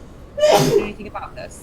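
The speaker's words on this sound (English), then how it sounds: "sneezes a couple times" A person sneezes once, loud and close, during a tabletop role-play session, with talk before and after.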